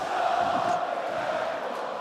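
A dense, steady roar from a large basketball crowd fills the Ulker Sports and Event Hall during a Euroleague game between Fenerbahçe and Žalgiris Kaunas, continuous and loud with a faint rising shout.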